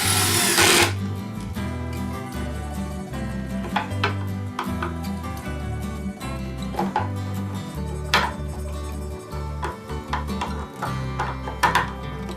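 A drill bores into black walnut wood for a dining table, a loud close whirring drone with repeated bursts and stops and sharp clicks between passes.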